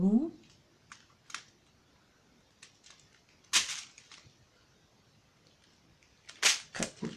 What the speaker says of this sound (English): we'll cut through the tape on it